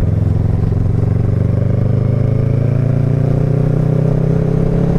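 A motorcycle engine drones steadily and loudly while riding along a road between Apartadó and Montería, Colombia, with a constant mid-pitched hum and road rumble and no talking.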